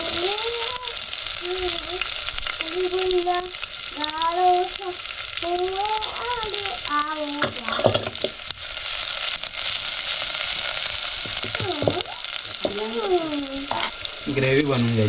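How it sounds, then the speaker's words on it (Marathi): Onion and curry leaves crackle in hot oil over a wood-fired stove, a loud continuous sizzle with spattering pops, while people talk over it now and then. "कांदा टाकते, त्याच्यावर कढीपत्ता पण टाकते."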